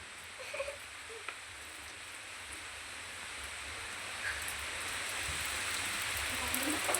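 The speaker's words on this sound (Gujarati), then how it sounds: "વરસાદ ચાલુ થઈ ગયો છે" Unseasonal rain falls steadily over an open field where groundnut crops lie out getting soaked, a broad even hiss that builds slightly in loudness across the stretch, with faint low rumble beneath.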